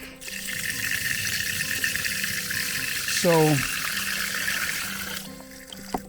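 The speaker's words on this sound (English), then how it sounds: "here on the front is where I open it up to let a little water out" Water released through a small opening at the front of an outdoor vessel, a steady splashing trickle near the microphone, with brief speech and a short creaky mechanical sweep partway through.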